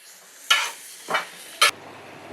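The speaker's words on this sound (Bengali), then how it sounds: "এখন 5 থেকে 10 মিনিট হচ্ছে এটা একটু কষাবো আর কি, ভাজা ভাজা করব।" Beef korma cooking in a pan with onion, chili and nut paste: three short scraping stir strokes with bursts of sizzle over a faint, steady frying hiss.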